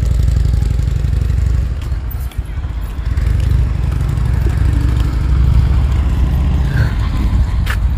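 A Harley-Davidson motorcycle idles close by at a house, its engine giving a steady, loud, low throbbing rumble that holds for the whole stretch with only a brief dip partway through.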